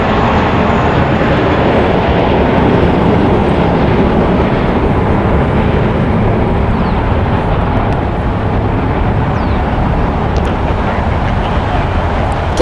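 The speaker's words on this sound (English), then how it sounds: "JetBlue Airways Flight 1700 going to Fort Lauderdale. It's an Airbus A321" A JetBlue Airbus A321 jet at LAX gives a loud, continuous broadband engine roar that holds steady throughout, with no voices.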